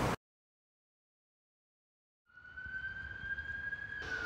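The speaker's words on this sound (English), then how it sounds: "Hopefully those sirens aren't for Joseph" Emergency vehicle sirens heard faintly from a distance, a steady wailing tone rising out of low background rumble after a long stretch of silence.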